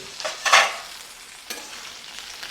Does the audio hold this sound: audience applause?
no